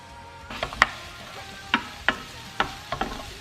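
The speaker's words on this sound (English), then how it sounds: "Once that's a little bit sauteed, you can go and add your mixed veggies and your corn." Capsicum, onion, garlic, mixed vegetables and corn sauté in hot oil with a soft, constant sizzle. Several sharp spatula clacks against the pan cut through it at uneven intervals.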